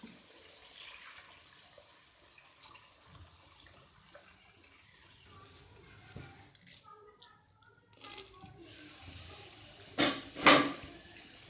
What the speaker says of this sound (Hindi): अब इसमें पानी डालेंगे हम।